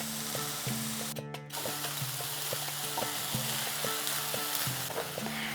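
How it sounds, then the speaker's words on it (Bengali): Chopped vegetables and tomato sautéing in a pan, a soft steady sizzle under a rhythmic, tonal clinking pattern in the background, fairly quiet throughout. "আমি এখানে সবজিগুলোকে একটু হালকা সতে করে নিচ্ছি"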